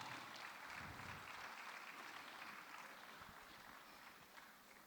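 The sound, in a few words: audience clapping for speakers called on stage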